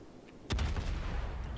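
Battleship firing high-explosive shells in a naval combat video game, heard as a single sharp, loud boom that rolls into a low rumbling tail.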